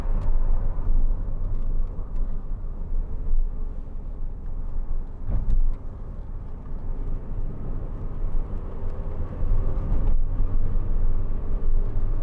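A steady cabin drone of fan blowing and wind rushing past inside a moving 2004 MG TF 1.6, constant and fairly loud, with occasional soft thumps.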